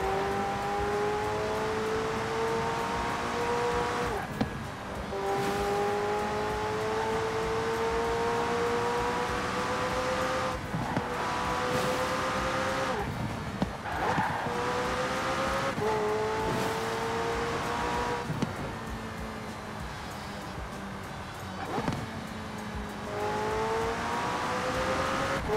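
A McLaren Senna accelerates hard in Forza Horizon 4, its engine note rising steadily through each gear before brief dips at every shift, repeating in a loud, continuous cycle close up.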